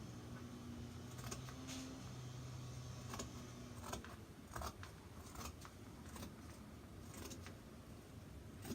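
Scissors cutting out a paper sewing pattern piece for a Vogue dress, faint repeated crisp snips at an uneven pace over a low background hum, no voices.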